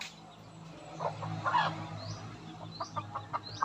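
Chickens cluck in short bursts near and far, with a few sharper calls toward the end over a low steady background hum.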